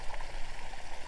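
Well water is pumped into a lake in a southeast New Mexico park, a close, continuous bubbling and splashing gush with a churning, uneven texture and no talk.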